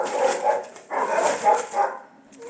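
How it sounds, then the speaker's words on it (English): Dogs in a home kitchen bark and yip in several short bursts, fairly near and loud, with a brief whimpering quality, over a moment with no talk. "Please excuse my dogs."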